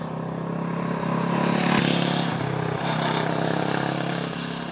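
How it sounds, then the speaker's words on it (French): Brixton Crossfire 500 motorcycle engine running steadily with a rough, crackling exhaust note, loud and close, holding a constant drone with slight swells and no talking. "c'est quand même un très bon moteur qui craque, qui est rocailleux au niveau du silencieux"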